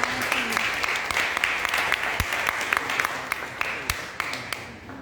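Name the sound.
audience applause at a vegan event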